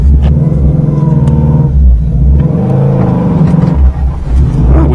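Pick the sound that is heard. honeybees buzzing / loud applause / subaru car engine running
subaru car engine running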